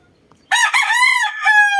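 A rooster crows loudly and close in a cramped backyard chicken coop, one long drawn-out cock-a-doodle-doo breaking sharply out of near silence.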